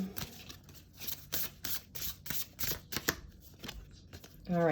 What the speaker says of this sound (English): I'm shuffling this deck upside down